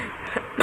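A person with a cold gives two short coughs, the second louder, close up in a quiet room.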